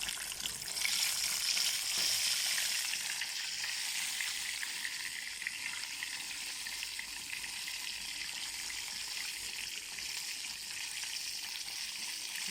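Chicken for a zinger burger deep frying in oil, a constant bright hiss of bubbling with a slight swell near the start, steady and close, no voices over it.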